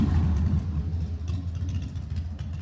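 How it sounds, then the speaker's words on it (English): A motorcycle rumbles past close by, a low, steady engine drone that swells slightly and then eases off over a couple of seconds, with no talking. "I'm going to wait for that motorcycle to pass by first"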